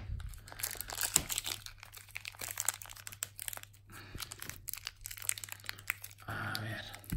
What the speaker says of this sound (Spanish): Hay que hacer uso de tijeras.